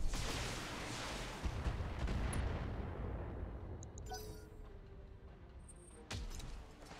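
An autocannon, roughly AC-10 class, fires in the mech combat game BattleTech, giving a heavy booming blast with a rumbling tail that fades, followed by another lighter thud and faint mechanical tones in the game mix.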